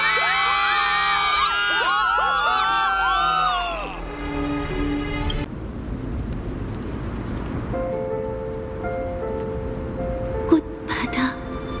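A crowd in the video game Honkai: Star Rail cheers and whoops loudly at first, then the roar fades into a softer, wash-like murmur with music tones and a sharp bright accent near the end.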